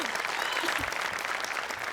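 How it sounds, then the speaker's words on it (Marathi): A television comedy show's studio audience breaks into steady applause, a dense wash of clapping that holds evenly for under two seconds. "दत्तूसाठी एकदा टाळ्या."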